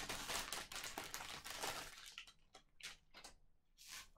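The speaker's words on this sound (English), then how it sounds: "So forgive me, it's gonna crinkle." Plastic yarn packaging crinkles and crackles close up in irregular bursts, loud at first and then in sparser rustles with short pauses.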